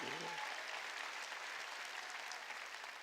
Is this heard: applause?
yes